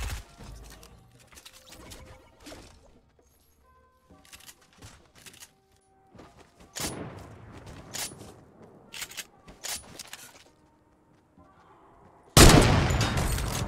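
Submachine gun fire in Fortnite, sharp bursts of shots scattered through the clip among other game sounds, with a loud dense burst near the end.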